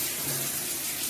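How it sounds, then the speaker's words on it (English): Water bursting from a hotel shower at the Bellagio in Las Vegas, a steady loud hiss of spray with no pause. "I'll turn it on real quick just to give you a sense, but the water pressure in the hotel is great."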